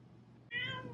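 A single short, close meow from a cat, rising after a moment of quiet room noise.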